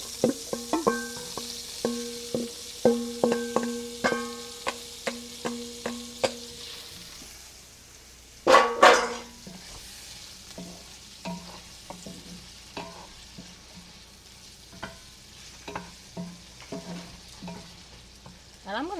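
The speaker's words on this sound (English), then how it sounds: "And I'm gonna let these saute for about 3 minutes." Chopped onion and garlic sauté in a hot pan with a spatula scraping and stirring in sharp, regular strokes, then a loud clatter, and afterwards a softer, steady sizzle with occasional light scrapes.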